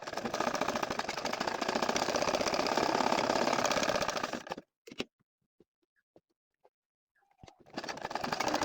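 A sewing machine stitches a nakshi kantha quilt, joining leaf motifs. It hums and rattles steadily for several seconds, stops abruptly into near silence with a few faint clicks, then starts running again.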